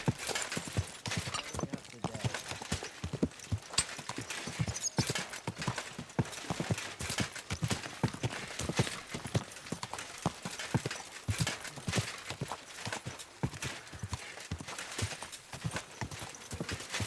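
Steady, rapid horse hooves clip-clopping over a hard surface, continuing at an even trot throughout, in the video game Kingdom Come: Deliverance 2.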